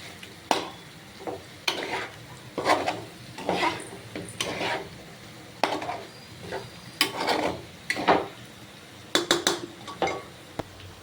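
Chicken coated in chili powder is stirred in a pan, producing intermittent scraping and clinking strokes of a utensil against metal at an uneven rhythm, close and moderately loud, with no talking.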